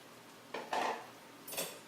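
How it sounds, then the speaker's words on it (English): Shirataki noodles are moved around in a stir-fry pan, giving a few brief scraping clatters of a utensil against the pan over a faint background hiss, with no talking. "I'm going to move those around just a little bit."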